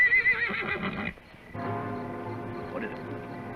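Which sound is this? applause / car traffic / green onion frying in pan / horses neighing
horses neighing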